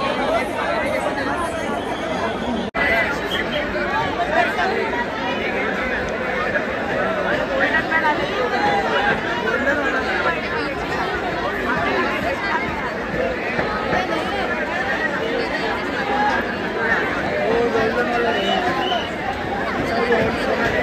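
Dense crowd of devotees at Lalbaug Ganpati darshan during the Ganesh festival in Mumbai, a steady loud hubbub of many voices with a person talking nearby over the babble.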